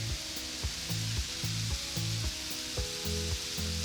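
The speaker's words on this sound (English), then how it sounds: "I'll get the mushrooms into the pan" Mushrooms frying in a pan, a steady close sizzle with rhythmic scraping and stirring strokes repeating roughly every half second.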